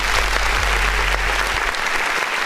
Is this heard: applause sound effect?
yes